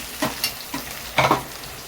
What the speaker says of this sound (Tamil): இதையும் நல்லா வதக்கி விட்டுக்கிறேன் ஒரு கொத்து கறிவேப்பிலையும் சேர்த்து வதக்கி விட்டுக்கிறேன்